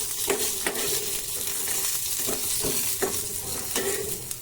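Coriander seeds, cumin and peanuts fry in a pan with a soft, continuous sizzle, while a spoon stirs them in repeated scraping strokes roughly every half second.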